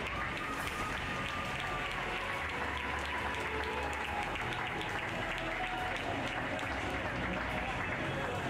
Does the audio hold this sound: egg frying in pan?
no